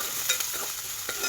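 Chopped onions frying in hot oil for an Andhra-style meal maker curry, a steady close hiss of sizzling with faint stirring scrapes, no voices.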